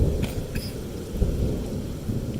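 Heavy Texas rain hisses steadily while low rumbling thunder rolls underneath, dense and fairly loud throughout, with no talking.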